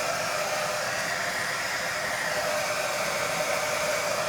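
A hair dryer blows steadily to dry glue on a craft piece, a loud, constant whooshing hiss held close and unbroken throughout with no voices.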